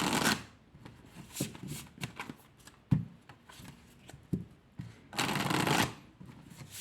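A deck of oracle cards is shuffled by hand, producing repeated dry riffling and flicking bursts with short pauses, ending in a longer, louder riffle, close and with no talk.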